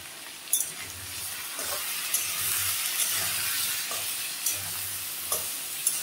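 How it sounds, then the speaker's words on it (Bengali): Mixed vegetables for Bengali shukto, seasoned with salt and turmeric, sizzle and fry in a pan, with a steady hiss and repeated stirring scrapes throughout, close and alone. "একটু ভাজা ভাজা হয়ে এসেছে।"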